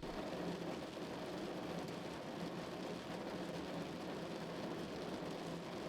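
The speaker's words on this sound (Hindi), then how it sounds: "रास्ते में हल्की सी बारिश हो रही थी" Steady rain hisses continuously, a dense even patter with no pauses, fairly faint and unaccompanied by voices.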